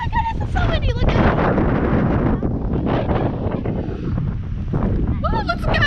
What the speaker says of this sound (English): Oh my goodness, it's so windy.